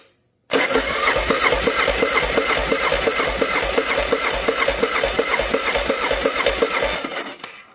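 A 1981 Yamaha Virago XV750 motorcycle engine cranks over with the starter, a loud, steady rapid chugging churn that runs continuously for several seconds without catching, then cuts off abruptly.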